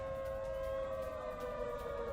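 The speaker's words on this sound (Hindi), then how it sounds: "ये रेड अलर्ट सायरन सुनिए" A red alert air raid siren during a missile attack wails in a steady, sustained tone, distant and moderately loud, with no voices.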